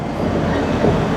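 A BMW 750iL with an engine misfire runs in a steady, rough low rumble, close and alone with no talk.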